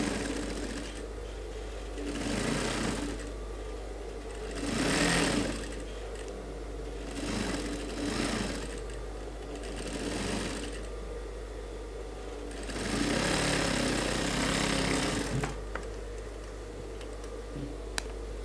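Sewing machine running a top stitch along a suit collar, in several separate runs of steady whirring that start and stop over a constant low hum, moderately close and fairly quiet.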